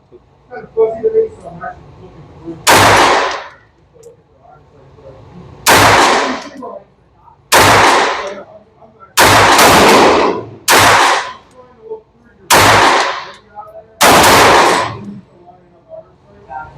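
Seven loud, close pistol shots from .22 handguns, a Taurus TX22 Compact, a Ruger 22/45 and a Taurus TX22 Competition, crack out at a shooting range, spaced irregularly with brief gaps and quieter moments between them.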